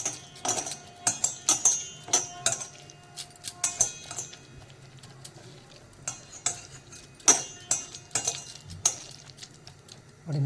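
A spoon scrapes and clinks against a bowl, mixing yogurt and spices into a marinade for gobi 65. The taps come irregularly, close and sharp, over a quiet background.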